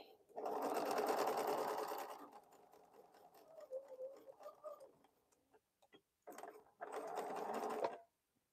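Sewing machine stitching a quilt crumb block, two loud close bursts of rapid whirring stitches separated by a quieter stretch of soft ticking and handling, with brief talk in between.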